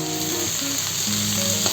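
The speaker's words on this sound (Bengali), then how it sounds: "এখন আমি দিয়ে দিচ্ছি শিদলগুলো" Dried fish (shidol) goes into onion and garlic frying in oil, giving a dense, continuous sizzle over a short stretch, close and fairly loud, with background music.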